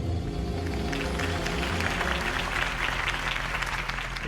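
Crowd applause from a rally audience after Harvey Dent's campaign speech in Batman: The Telltale Series, a sustained, even roar of clapping under a low musical bed.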